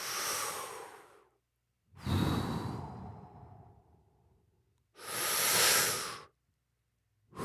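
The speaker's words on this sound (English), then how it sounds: "how we're making the robot breathing now?" A robot's mechanical breathing effect, three loud breathy exhalations separated by silent gaps, each a broad airy hiss with a sighing fall, heard alone at close range.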